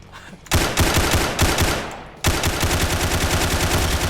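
Rapid automatic gunfire bursts loud and close in a Roblox CS:GO-style first-person shooter game, a short volley, a brief pause, then a sustained stream of shots with no talking.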